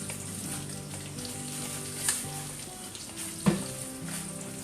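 Pork fat frying in a good pan for crispy rendered lard, a soft, continuous sizzle and crackle with a couple of sharper pops, quiet and close with no talking over it.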